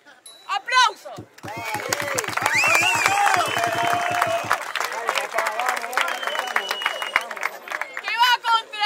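A crowd at a freestyle rap battle competition applauds and cheers loudly, with dense clapping and shouting, while an amplified voice talks over the noise at the start and end.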